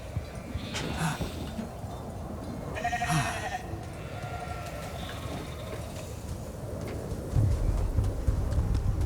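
Sheep bleating in the video game The Alters during a boss fight: two or three distinct wavering bleats over a busy game soundscape with rumbling and clopping noises.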